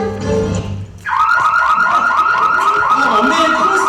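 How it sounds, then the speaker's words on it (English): An office burglar alarm suddenly starts blaring, a loud, steady electronic wail with a rapidly pulsing warble that continues without a break after some brief muffled sounds. "you let the alarm go off"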